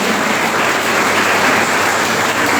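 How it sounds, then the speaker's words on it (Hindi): An audience applauds two students who will compete in a yoga world championship, a dense, steady roar of clapping that holds loud and even throughout. "तो एक बार पुनः तालियां इन दोनों छात्रों के लिए।"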